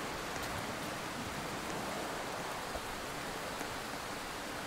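Steady, dense rain hisses in the Dynamic Ship video game, a constant broadband wash with no distinct drops or pauses and no voices.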